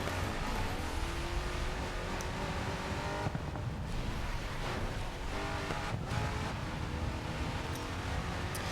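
A Bugatti Chiron drives in a racing video game, its engine a dense, steady roar that is loud and close throughout, with a few short dips as it shifts gear.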